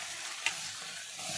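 A short burst of sizzling from spices tempering in hot oil in a pan, faint and close, with a brief crackle near the start.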